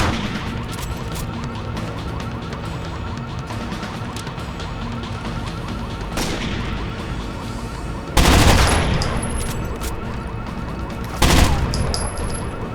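Rapid automatic gunfire in the shooter game Rainbow Six Vegas, a sustained rattling stream of shots with two louder, sharper blasts near the end, loud and close amid game noise.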